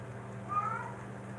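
A cat gives a single brief meow, fairly quiet against a low steady hum.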